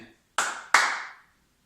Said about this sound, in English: you're going to do a hop, clap, ending the pattern